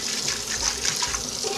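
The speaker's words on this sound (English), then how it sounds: "And then this I wash with hot water" Hot water runs steadily from a tap over an Instant Pot pressure cooker's inner pot as it is washed at a sink, a close, continuous splashing hiss with no talking.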